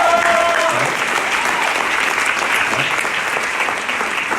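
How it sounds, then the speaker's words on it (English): A crowd claps steadily for several seconds, dense and loud, with a brief voice at the very start. "Let's give a round of applause for that."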